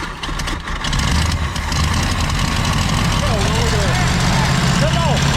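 Engine of a 1965 Ford Galaxie 500 running steadily after decades off the road, a loud close rumble with voices talking over it.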